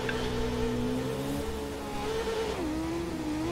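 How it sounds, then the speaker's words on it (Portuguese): Motorcycle engine revving in the racing game The Crew 2, a steady loud droning note that rises and falls slightly as the throttle shifts, close and continuous with no talk. "Dá uma repicada aí de moto"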